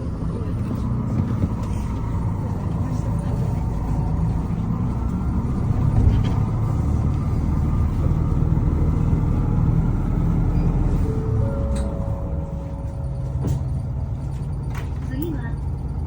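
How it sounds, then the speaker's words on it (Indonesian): Inside a moving bus in Japan, a continuous low engine rumble and road noise fill the cabin, a steady, close drone with faint rattles and shifts in tone. "Ini kita udah di dalam bis ya"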